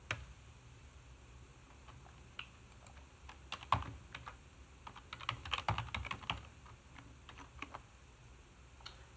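Fingers tap on a computer keyboard while logging back into webmail, a quiet, irregular run of close clicks with brief pauses and denser bursts of keystrokes.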